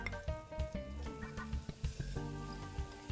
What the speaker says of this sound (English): Now I'm going to add a little more olive oil to my pan, probably another tablespoon. And we're going to cook our onions.